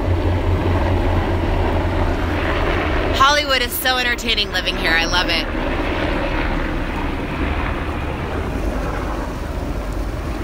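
Helicopters fly over a West Hollywood rooftop, three of them, making a steady, broad engine and rotor rumble that fills the whole clip, with someone talking over it partway through.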